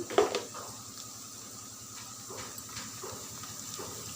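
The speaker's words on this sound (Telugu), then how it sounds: "ఆనియన్ పచ్చిమిర్చి ఫ్రై కలపాలి" Onions and green chillies frying in a pan for an okra and tomato curry, a soft steady sizzle with occasional clinks and stirring scrapes, close but quiet.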